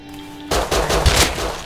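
Gunfire in Rust, a sudden burst of rapid automatic shots, loud and close, firing for about a second after a quiet start.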